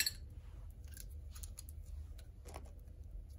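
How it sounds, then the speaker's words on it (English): Scissors snip off a small excess piece of scotch tape, a few quiet, crisp cuts close by against a faint background hum. "I always snip that little bit of excess off"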